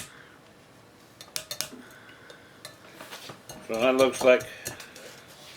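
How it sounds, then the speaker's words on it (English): Utensil stirring echinacea tincture in cheesecloth, a few scraping clinks near the end after a quiet stretch with brief talk. "We're just stirring it around a little bit more."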